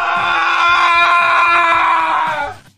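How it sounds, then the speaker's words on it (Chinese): An animated character lets out a loud, agonized scream of pain, one sustained shrill cry lasting nearly three seconds before cutting off, with no talk around it. "取而代之的是一种深入骨髓的疼痛的惨叫声"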